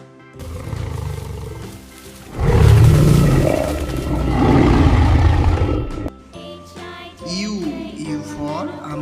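Tiger roaring in a children's alphabet song, a loud, rumbling, sustained roar of several seconds that fades into light jingling music.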